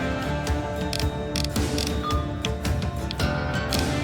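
Mechanical ratcheting and clicking of a wrench turning in the video game Uncle Chop's Rocket Shop, busy layered gear-like clatter with repeated sharp clicks, steady and close over a continuous game backdrop.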